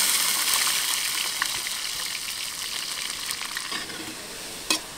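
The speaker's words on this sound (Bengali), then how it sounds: "রসুনটা একটু ভাজা ভাজা হয়েছে" Peeled garlic cloves frying in hot oil with dried chillies, bay leaf and cumin for a Bengali chicken curry, a steady close sizzle with occasional stirring scrapes and a sharp clink near the end.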